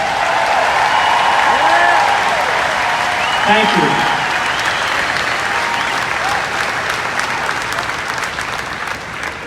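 Audience applause honoring military veterans, a dense sustained clapping from a large crowd that carries on steadily and slowly fades, with a brief spoken thanks over it.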